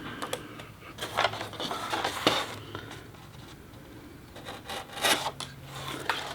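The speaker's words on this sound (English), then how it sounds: "I use my blade in the sawing motion" Rasping, scratchy strokes of a craft blade sawing back and forth through foam board, close up, with irregular bursts of cutting friction and quieter pauses between them, no talking.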